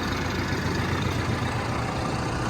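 A diesel Basak tractor engine idles with a steady low chugging rumble, constant and unchanging throughout, fairly close with no voices.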